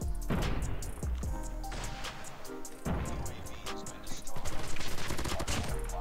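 Rapid hip-fire gunshots from an M13 rifle ring out in COD Mobile, close and loud in dense continuous bursts with no pauses and no voices.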